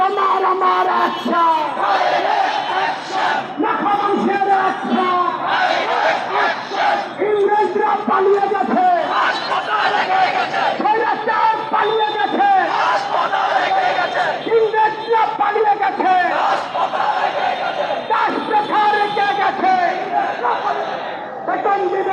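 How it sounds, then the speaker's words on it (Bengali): A large rally crowd in a street in Dhaka chants slogans loudly and continuously, with rhythmic shouted calls and responses rising and falling across the whole stretch. "তারা মূল মূল স্লোগান দিয়ে রাস্তা প্রকম্প করছে"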